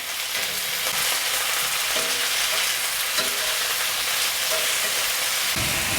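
Chicken pieces fry skin side down in hot oil, giving a steady, loud sizzle and crackle that fills the clip, with a few soft clatters near the pan.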